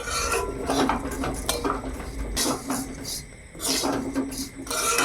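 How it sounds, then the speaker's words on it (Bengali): Semolina stirred and fried in ghee in a pan in a village kitchen, with a spoon scraping and clinking against the metal in steady strokes over a faint sizzle, close and fairly loud, while someone talks intermittently. "সাময়টা ভালো করে ভেজে নেই ঘিয়ে।"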